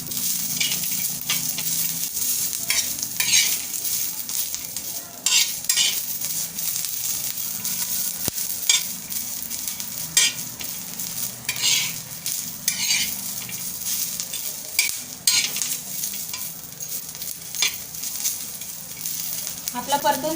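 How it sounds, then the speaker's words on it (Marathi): Garlic, ginger and roasted coconut sautéing in a pan: a steady hiss and crackle of frying, with frequent scraping stirs of a spoon against the pan and occasional light clinks throughout. "1-2 मिनिटं आपण परतून घेऊया"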